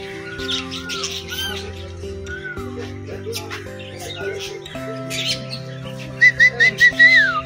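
Parrots in a zoo aviary give scattered squawks and chirps, ending in a quick run of sharp repeated calls, over a background of sustained music tones and faint voices.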